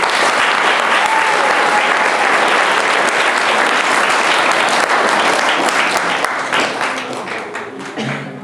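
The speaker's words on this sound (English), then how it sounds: "please give this amazing lady a round of applause" Sustained, dense audience applause follows a speech at a speech contest, loud and steady throughout before thinning and tapering off in the final seconds.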